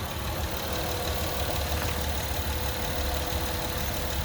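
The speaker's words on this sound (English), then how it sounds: "That engine's running smooth" A 2016 Honda Odyssey Touring with front-wheel drive idles steadily, a smooth, even engine hum with a faint mechanical whir, heard close and alone without talk.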